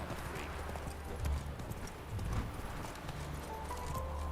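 Roach, a horse in The Witcher 3: Wild Hunt video game, trots with a steady clip-clop of hooves, close and continuous, under ambient game sound with a brief whinny-like accent.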